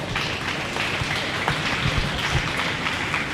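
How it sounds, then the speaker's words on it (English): An audience at a county dairy cattle and beef show applauds a youth showmanship group, continuous clapping at moderate level filling the space with no voices on top. "Let's give these kids a round of applause"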